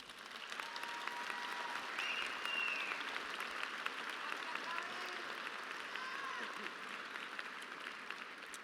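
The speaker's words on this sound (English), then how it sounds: "give all of these wonderful people a round of applause for that level of support." A graduation ceremony audience at a high school gives sustained applause for supporters, a steady wash of clapping from a large crowd that holds at an even level throughout.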